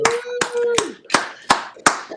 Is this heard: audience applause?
yes